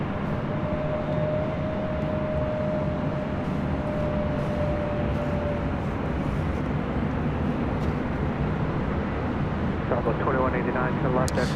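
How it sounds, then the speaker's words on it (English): A Delta Airbus A321neo at LAX, its steady, broad jet engine roar continuous and fairly loud throughout, with a faint tonal whine early on and a brief burst of radio chatter near the end. "Delta Airlines Flight 464. It's an A321 Neo."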